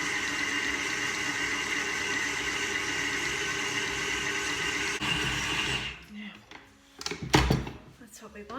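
An electric mixer whirs steadily and loudly while mixing dough for Christmas baking, then cuts off, leaving brief clattering handling sounds.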